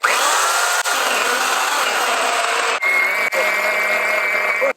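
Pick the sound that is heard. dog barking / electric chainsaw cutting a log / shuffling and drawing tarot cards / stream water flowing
electric chainsaw cutting a log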